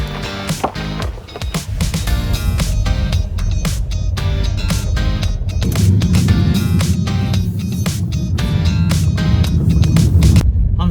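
A Tesla Model 3 electric car on the move, heard as a loud, steady rumble of road and tyre noise with a low throbbing hum that grows heavier partway through, close and continuous with no talking.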